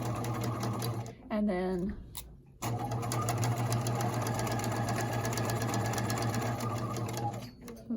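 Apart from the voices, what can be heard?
sewing machine stitching fabric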